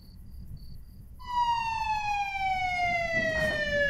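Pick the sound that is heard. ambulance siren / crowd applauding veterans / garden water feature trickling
ambulance siren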